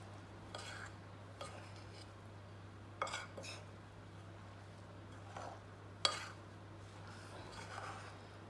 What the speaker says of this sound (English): grab a tablespoon, mix that all in